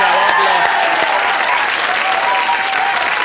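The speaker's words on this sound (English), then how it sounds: "Ladies and gentlemen, give them a big round of applause." Studio audience at the 1992 Blockbusters game show breaks into loud, sustained applause, a dense steady wash of clapping with a few voices mixed in close by.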